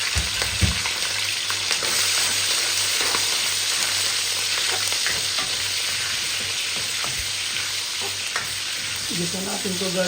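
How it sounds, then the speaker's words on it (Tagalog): Squash and string beans sauté in a hot pan, sizzling continuously close up while a spatula stirs and scrapes with frequent light clatters. "Gisa natin to guys."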